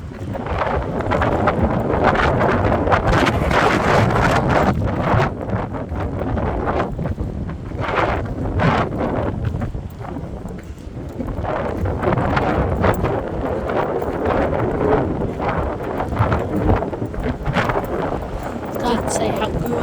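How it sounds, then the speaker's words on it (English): Strong wind buffets the microphone at a beach beside a new playground, a loud continuous roar with gusty surges throughout, while a person talks intermittently over it. "Windy, I'm nearly getting blown over."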